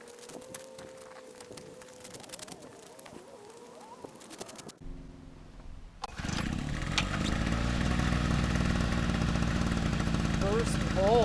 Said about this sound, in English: Gonna fire up the generator.